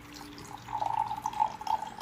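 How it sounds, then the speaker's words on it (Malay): Warm water poured into a drinking glass while making a honey drink with squeezed lemon or calamansi lime, a steady trickling splash that rises in level and continues to the end, fairly close and without speech. "Masukkan air dulu."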